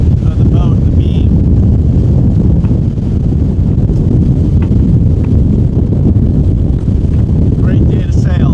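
A sailboat under way off the Upper Keys at about 7 knots with the wind on the beam: loud, steady wind buffeting and water rush roar throughout, with faint higher squeaks and creaks now and then.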